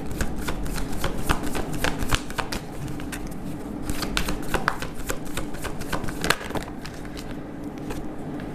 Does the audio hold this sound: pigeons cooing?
no